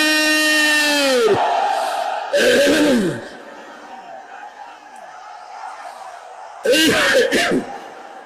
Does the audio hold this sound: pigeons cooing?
no